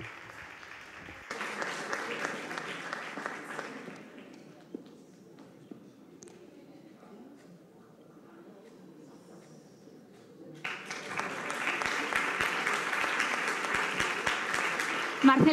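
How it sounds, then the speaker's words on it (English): Audience applause at an award-winners press conference for the film Los Perros: a burst of clapping, a quieter gap with soft shuffling, then a louder, denser round of applause swelling to the end, with talk underneath. "A warm round of applause for Marcela"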